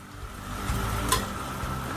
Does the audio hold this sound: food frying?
yes